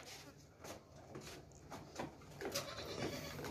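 A goat of good breed bleats in a few faint, wavering calls spaced over a few seconds, set against quiet farmyard background noise.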